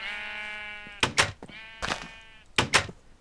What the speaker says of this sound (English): But I might as well start shearing some sheep.